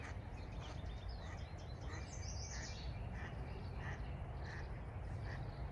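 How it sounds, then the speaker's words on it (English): Outdoors by a river, repeated short bird calls ring out, fitting a duck calling, sounding at fairly regular intervals over a steady low background rush, moderately distant and faint. "You hear the duck."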